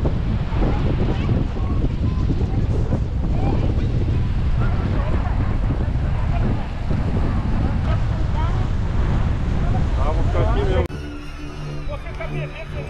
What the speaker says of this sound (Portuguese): Vocês têm noção do vento que tá aqui.